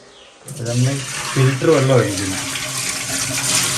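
Water runs from the tap of a water filter in a steady, fairly loud rush that starts abruptly and continues throughout, with a voice heard briefly near the start.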